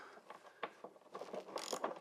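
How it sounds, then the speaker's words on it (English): A ratchet socket wrench with a long socket loosens a 10mm nut on a Ford Mustang's independent rear suspension, giving quiet, close, irregular clicking ratchet pawl bursts. "Use a long socket, and you just want to loosen this."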